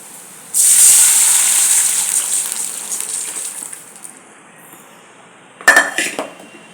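Spice powder is stirred and mixed in a metal pot, giving a loud, bright scraping swish that fades over a few seconds, then a short burst of clinking utensil scrapes.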